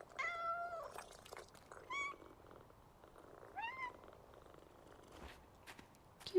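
Cats outdoors by a lake, meowing in a few short rising calls at intervals over a faint, steady purr, quiet and fairly close, with no talk.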